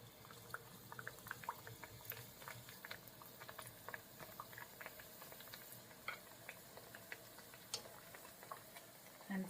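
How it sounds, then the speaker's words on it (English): Mashed plantain slices for tostones fry in a pan of oil, giving a steady, faint sizzle with scattered small pops and crackles that keep going the whole time, with no voices over it. "we'll fry them until they're like a golden brown"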